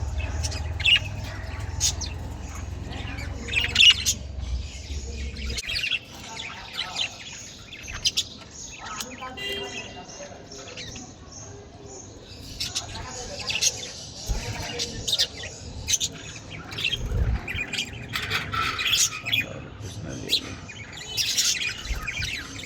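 Pet budgerigars at a summer bathing and drinking spot chirp and squawk in quick, scattered bursts, close and lively, with a low rumble early on and occasional voices between calls.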